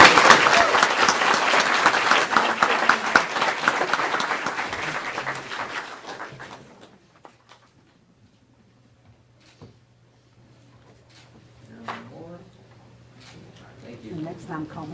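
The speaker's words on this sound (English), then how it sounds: "And I think he deserves a huge round of applause." At a county board of education meeting, audience applause fills the first six seconds, dense and fairly loud, then thins out into scattered sounds and nearby voices talking.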